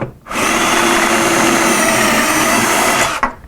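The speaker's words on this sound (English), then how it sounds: "I'll drill a hole." A power drill runs continuously at full speed for about three seconds, loud and close, boring through wood for shelf pin holes before stopping abruptly.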